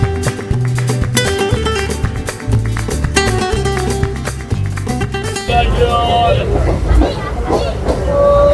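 A train running on the Sealdah–Namkhana suburban line, its rumbling rolling noise rising in the second half after a stretch dominated by melodic background music.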